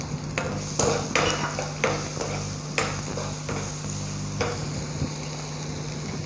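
Crushed garlic spluttering in hot oil in a cooking pan, with sharp crackling pops scattered irregularly over a steady sizzle, a few louder bursts standing out near the start.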